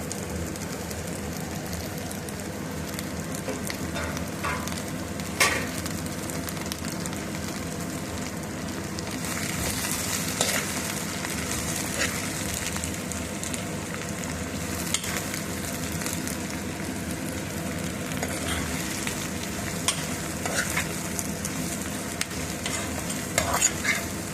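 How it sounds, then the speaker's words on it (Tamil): Beans being stir-fried with sautéed onions in a pan, a steady close sizzle with scraping stirs and occasional clinks of a utensil against the pan, no talking. "இப்போ வெங்காயம் வதங்கினோடனே பீன்ஸை போட்டுக்கலாம்."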